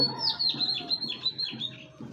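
Racing pigeons call in short repeated chirping and cooing phrases, close and moderately loud, with no talking.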